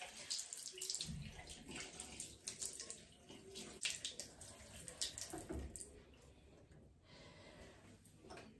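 Lukewarm tap water runs steadily while a face mask is rinsed off the skin, a continuous close splashing and trickling flow with shifting intensity and no talking.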